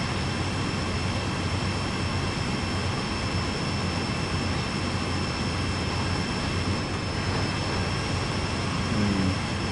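A runaway freight train rolling down Sand Patch Grade in Train Sim World 2, a continuous loud rumbling roar with a high steady whine, unbroken for the whole stretch.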